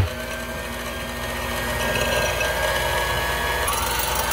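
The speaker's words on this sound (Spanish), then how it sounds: "Entonces vamos a empezar a batir." An electric mixer beats egg whites in a bowl with a steady buzzing whir and faint rattling, close and continuous throughout with no talking.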